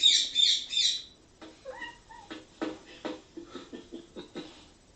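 A bird outside a window gives a loud burst of high chirps at the start, followed by quieter, rhythmic clicking and tapping calls that repeat at a steady pace.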